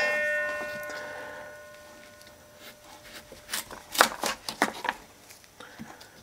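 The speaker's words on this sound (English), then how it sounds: "so I'm going to cut them by hand now" A knife cuts by hand through hard, crisp Detroit Red beets, giving a run of sharp close chopping clicks and crunches that come in quick uneven bursts after a quieter stretch.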